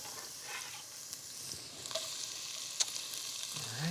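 Onions frying in a pot that held plantains, giving a steady soft sizzle with occasional stirring scrapes and small pops, close and fairly quiet.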